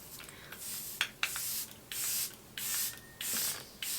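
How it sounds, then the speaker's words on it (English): Charlotte Tilbury setting spray mists onto a face in several short hissing bursts, each a close, breathy spritz separated by brief pauses. "I feel like this definitely needs a setting spray that will make it transfer proof, and the Charlotte Tilbury one does that"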